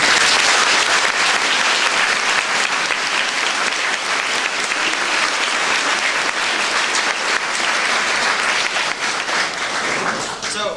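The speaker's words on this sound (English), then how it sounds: "a quick round of applause for all of our speakers" A large audience at a talk on apocalyptic visions applauds the speakers, producing loud, sustained, dense clapping that continues steadily with slight swells before easing off at the end.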